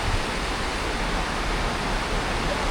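A glacier-fed river rushes through Marble Canyon in the mountains, a steady, loud, close roar of churning water with no break.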